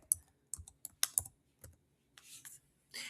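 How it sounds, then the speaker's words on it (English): Someone types on a computer keyboard in a quiet room, with a few separated key presses and clicks followed by short bursts of quick soft tapping. "I'm going to start typing in the name of a case called Hammer v. Sidway."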